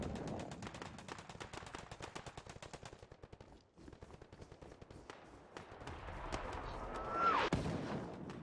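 Dense, rapid machine-gun bursts from the World War II shooter Hell Let Loose rattle almost nonstop, with a brief lull, then heavy booming impacts and fire that swell louder near the end, set in hedgerow country.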